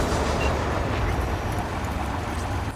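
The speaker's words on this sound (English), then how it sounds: "All right, the train's leaving." A train pulling away in Cyberpunk 2077 makes a steady, loud broadband rumble with low mechanical churning. It stays close and constant throughout with only slight fading, and no voices are heard.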